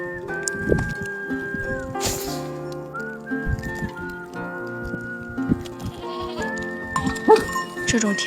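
Sheep bleat repeatedly at a farm pen on a windy, snowy spring day, their calls rising over a steady tonal background at close to moderate range.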